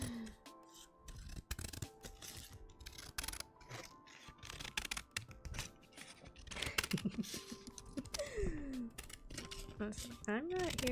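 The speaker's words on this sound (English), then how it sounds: "Right now I'm cutting a piece of paper because these guys get off on that." Paper being cut with scissors in a close, quiet setting, heard as a run of crisp snips and rustles with intermittent clicks, while a voice talks softly throughout.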